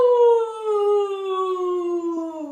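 A person imitates a wolf howl during a children's movement activity, giving one long, clear, sustained howl that slides gradually downward in pitch, close and alone with no other sound.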